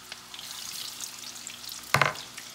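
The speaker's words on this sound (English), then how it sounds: "Gonna fry it golden brown." Cut potatoes for homemade french fries bubble and crackle in hot oil, making a continuous busy sizzle, with one louder splash or scrape burst near the end; close and steady, no talking.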